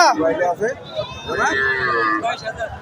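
Cattle low in a crowded cattle market where heifers are being sold, with a drawn-out moo rising over steady chatter and bargaining voices.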